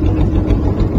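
Engine of a trawler boat running on a mangrove channel in the Sundarbans, a loud, close, steady low-pitched drone with no talking.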